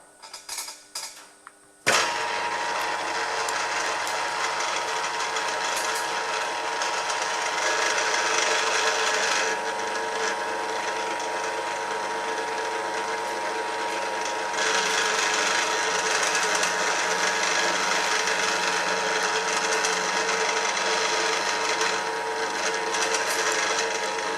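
A Zenith 24T carburettor from a Ferguson TE20 tractor being reamed on a machine, a loud steady mechanical whirr with a metallic rattle and clang from the machine seat, starting after a few brief clatters.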